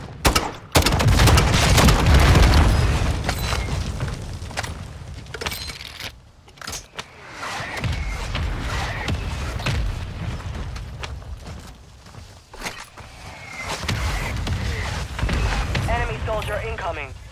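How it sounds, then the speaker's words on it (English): Mortar strike explosions in Call of Duty's Gulag mode on the Vondel map, heavy booming blasts rumbling almost continuously for the whole stretch, loud and close, with voices heard in the clip. "Copy that. Mortar strike inbound."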